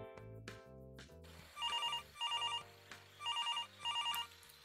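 A telephone rings from an unknown number, four bursts of a trilling electronic bell in an even rhythm over a faint background tone, fairly quiet and with no one speaking.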